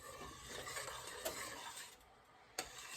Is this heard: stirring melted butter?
yes